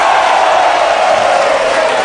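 A studio audience on an Indonesian TV talk show cheers and whoops loudly as a dense, continuous crowd roar that holds steady throughout.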